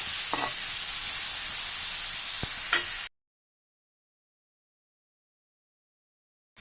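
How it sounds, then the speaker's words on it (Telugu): Onion pieces sizzle steadily in hot oil for a prawn and drumstick curry, a loud even frying hiss lasting about three seconds before cutting to silence, with a brief return at the very end. "ఉల్లిపాయ ముక్కలు ఇదిగోండి ఈ విధంగా వేగాలి"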